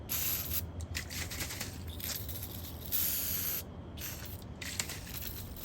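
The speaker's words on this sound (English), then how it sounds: "I'm going to spray brake clean." Brake cleaner sprayed from a weak, low-pressure aerosol can during a 2010 Volkswagen Passat vacuum pump rebuild, a continuous close hiss with brief pauses and surges.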